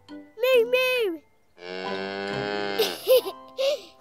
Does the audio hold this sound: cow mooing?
yes